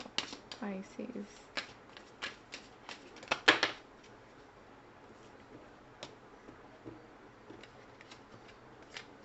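Tarot cards are shuffled with brisk riffling bursts, then snapped and laid down one by one in soft, sparse taps. The sound is close and quiet, with a voice speaking faintly in places.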